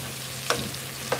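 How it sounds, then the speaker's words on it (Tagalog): Papaya sautéing in a pan for chicken tinola, a steady close sizzle with two brief louder scrapes of stirring, heard alone. "igisa lang natin itong papaya"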